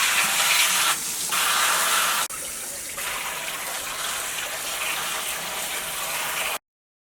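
Bean leaves being rinsed under a running kitchen tap, a steady hiss of flowing water that drops and shifts as the leaves move under the stream, then cuts off abruptly.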